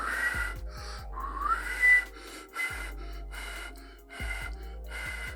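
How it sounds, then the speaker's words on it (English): A person attempts a mouth whistle with rounded ooh-shaped lips, producing breathy airy gasps with faint, incomplete whistle tones in short repeated bursts. "Now you can hear I'm getting that whistle tone, but it's not a full happening"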